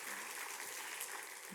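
A church congregation at a Sunday morning service gives a short round of encouraging applause, a faint, steady wash of clapping heard from a distance.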